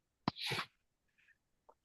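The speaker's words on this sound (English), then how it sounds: "I've been trying to go on and off mute to sneeze" A single loud, close sneeze from a participant on a council meeting call, sharp onset then a breathy burst, followed by a few faint clicks and rustles in near silence.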